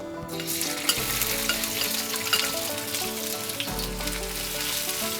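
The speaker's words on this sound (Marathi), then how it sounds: "हा कांदा जरा परतून घेऊया आपण।" Onion fries in a spoonful of hot oil on an iron griddle over a high-to-medium gas flame, producing a constant close sizzle with light stirring scrapes and no voices.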